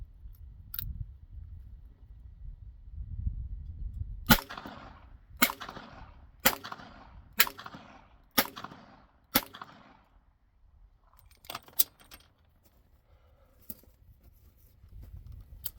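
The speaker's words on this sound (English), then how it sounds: "We'll fire another cylinder full through." Smith & Wesson Model 31 revolver firing .32 S&W Long rounds outdoors, six sharp evenly spaced shots about a second apart, followed by fainter clicks and handling noise.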